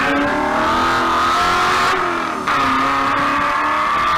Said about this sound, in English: The glorious sound of the 289 Ford V8.